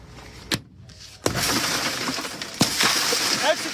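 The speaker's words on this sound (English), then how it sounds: "That was the sound of an officer smashing McNeil's window" A police officer smashes a car window during a roadside arrest: a sharp crack and sudden burst of breaking glass, followed by scattered tinkling fragments and a further impact, close and loud.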